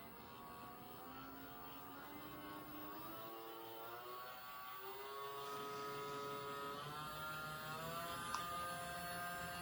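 A small battery-powered G-scale RC model yard locomotive running at full speed, giving a steady whining motor tone with rising harmonics over continuous gear and track rumble, fairly close and even, with no talking.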